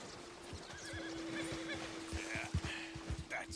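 Horse in a free-roam Western video game neighing, with a drawn-out whinny and scattered clip-clopping hoofbeats that grow louder toward the end, over a steady game ambience with a soft background hum.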